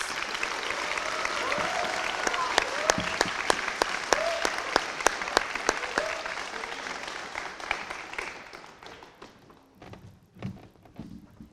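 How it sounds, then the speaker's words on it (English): Audience at a Year 12 school awards ceremony applauds in a sustained, dense wash of clapping with a few louder claps standing out, thinning and fading toward the end with some thuds and footsteps. "Please give them a round of applause."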